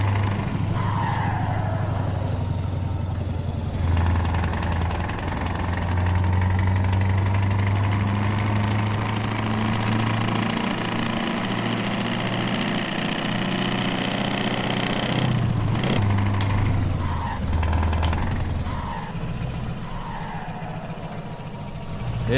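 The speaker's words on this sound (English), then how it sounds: "This is pretty much that bottom end knocking sound." A heavy truck engine in Euro Truck Simulator 2 runs and revs for a long stretch, with a deep rough bottom-end knocking rumble underneath and a few sharp skids and mechanical clunks toward the end.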